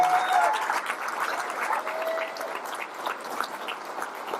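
Dinner guests at an annual banquet applaud warmly for an honoree, a dense steady clapping that fills the room and slowly tapers off, with faint voices mixed in.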